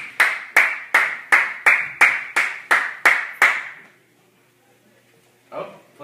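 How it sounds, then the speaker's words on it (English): A studio host leads a round of applause for a guest with about eleven crisp, evenly spaced claps close up. The claps stop abruptly, a short silence follows, and then a voice begins. "Let's give him a round of applause here."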